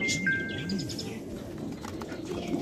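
Diamond doves at a breeding farm, soft cooing and small chirping calls from several birds close by over a faint background hum, with a thin whistle-like tone near the start.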